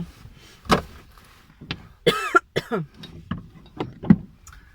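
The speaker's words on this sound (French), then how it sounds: "Si je décède pas avant d'une quinte de toux phénoménale." Coughing from a person with a cold: a few harsh, rough coughs and throat-clearing bursts at irregular intervals, close and fairly loud, with a strained, raspy quality.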